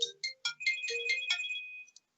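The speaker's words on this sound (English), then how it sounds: "Somebody's ringing." A phone ringtone plays a short electronic melody of bright, quick chiming notes, close and clear, ending after about two seconds.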